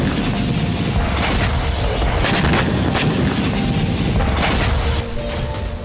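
Loud, continuous barrage of explosions and artillery fire from the Russia-Ukraine war, heavy booms and sharp cracks overlapping with no pause.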